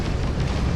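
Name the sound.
missiles launched and exploding in Starfield video game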